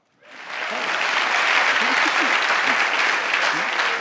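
A comedy club audience bursts into loud, sustained applause that swells in quickly and holds steady, with scattered whoops and voices mixed into the clapping.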